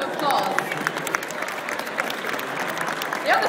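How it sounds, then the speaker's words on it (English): Audience applause at the Crufts dog show after a dog demonstration, dense crowd clapping in a large arena with a brief voice cutting through and faint crowd noise throughout. "Give her a round of applause."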